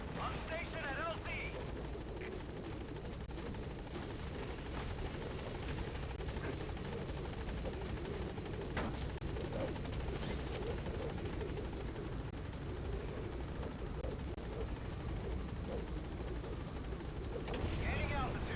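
A Pequod helicopter in Metal Gear Solid V drones steadily as it approaches a landing zone, a loud continuous rotor roar with dense rumble throughout, and voices speaking over it.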